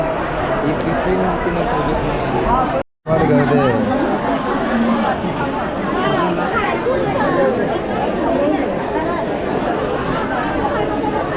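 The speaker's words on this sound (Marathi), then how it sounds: "दिवागाडीतून उतरलेले कोकणी माणसाची गर्दी" Crowd of Konkani passengers spilling off the Diva train, a dense, steady babble of many overlapping voices close by, with a brief silent cut near three seconds.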